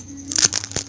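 Crispy fried chicken broken apart by hand, giving a few short crackling, tearing crunches close up over about a second, with no talking.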